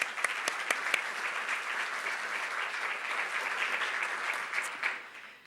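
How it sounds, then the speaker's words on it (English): Lecture-hall audience giving sustained applause at a fall distinguished lecture, a dense even wash of clapping with a few sharp louder claps near the start, no speech over it. "How about a round of applause?"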